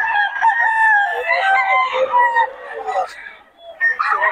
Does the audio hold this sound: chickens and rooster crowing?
yes